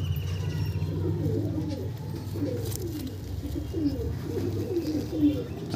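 Andhra pigeons coo in a series of low, soft, rolling calls close by, repeating steadily over a constant low background hum with no talk.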